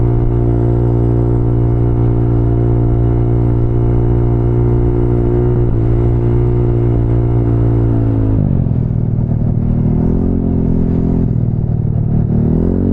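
A custom Honda Ruckus scooter with a 4-stroke engine idles steadily and loudly, its low buzzing hum dropping and wavering near the end as the throttle shifts, heard alone without talk.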